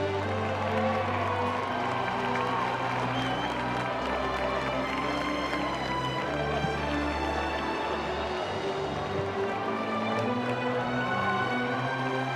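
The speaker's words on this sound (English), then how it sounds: "outside the crowd is clamoring for me" Large crowd clamoring outside City Hall before a parade, a dense, continuous roar of many voices with cheering and applause, steady and loud throughout with a low droning tone underneath.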